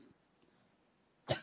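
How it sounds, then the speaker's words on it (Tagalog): A single sharp cough from a preacher during a sermon, bursting out close and loud after a stretch of near silence. "Medyo inuubo po ako."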